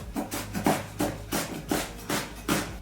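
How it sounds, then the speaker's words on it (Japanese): A knife thinly slices a halved new onion on a cutting board, about nine crisp, evenly spaced cuts, each a short crunch ending in a soft knock on the board, close and alone. "半分に切ってからまな板に直角に端から薄切りしますが、"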